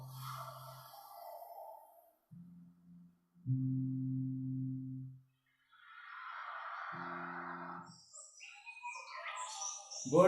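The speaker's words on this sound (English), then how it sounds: "Bird sound." Birds chirp and tweet in short bursts outdoors in the early morning, fairly faint and intermittent with gaps between calls, alongside low tonal sounds and some nearby human voice.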